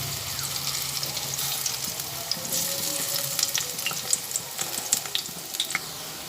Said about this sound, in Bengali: এই সময় গ্যাসের ফ্লেমটা একদম কমিয়ে নিয়ে ভেজে নিচ্ছি